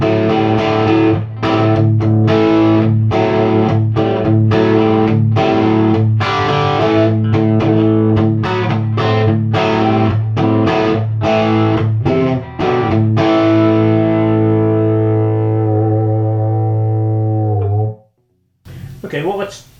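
Electric guitar driven through a Bogner Neve Wessex distortion pedal, playing loud, sustained distorted chords with rhythmic strums, then ringing out into a decaying tail before cutting off near the end.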